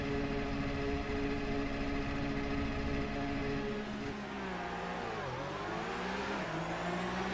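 A Porsche race car engine in the iRacing sim holds steady high revs at the race start, a loud continuous harmonic drone that dips and wavers near the end as the launch begins.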